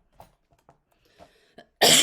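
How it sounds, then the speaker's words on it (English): A person coughs, with a few faint throat sounds first and then one loud, sharp, close cough at the end. "I'm so sorry for all the coughing."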